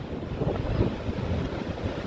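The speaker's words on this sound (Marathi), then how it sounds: "समुद्राची लाटां आनी बदललेलें हवामान पळोवन" Steady strong wind buffets the microphone over the low rush of rough sea waves at Benaulim Beach, Goa, a continuous rough roar without any voices.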